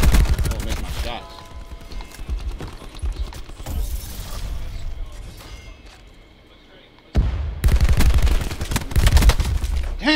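Rapid bursts of loud gunfire from the Call of Duty Black Ops 4 video game crackle in clusters, then go quiet for a moment before another dense volley, with a player talking over the shooting.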